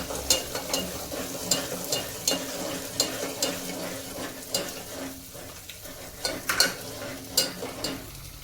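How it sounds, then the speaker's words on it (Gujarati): Onion frying in a pan for a mixed dal, with a soft continuous sizzle and a regular rhythm of spoon scrapes and taps roughly every second as it is stirred. "થોડીક વાર ડુંગળી નાખી દેવાની થોડી, તેને પણ હલાવવાનું"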